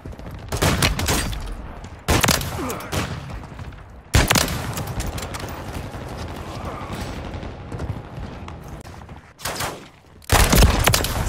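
Bursts of heavy automatic gunfire in the video game Call of Duty Modern Warfare 3, loud and dense, broken by short pauses, with mechanical clatter and distant booms in between.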